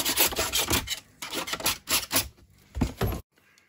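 Rubbing wood smooth on a homemade biltong dryer box: a series of short rasping, filing strokes in an uneven rhythm, close and fairly quiet, ending abruptly.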